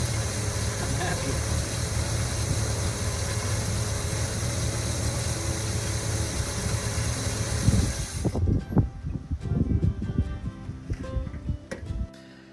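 A 1972 Chevy C10 with a 402 big block and turbos, a flood survivor, running at a steady loud idle with a dense even rumble that suddenly cuts off, followed by scattered clunks and ticks close by.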